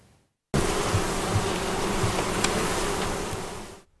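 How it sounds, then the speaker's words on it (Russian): Honey bees buzz steadily at a farm apiary in spring as they carry pollen from willow and flowers, a dense close swarm drone that holds evenly for about three seconds and then falls away. "Пчелы уже собирают первую пыльцу, несут ее с цветов и вербы."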